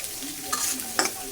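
Onions sizzle softly in a hot pan, a faint steady hiss punctuated by two brief brighter bursts as they are stirred, with no voices.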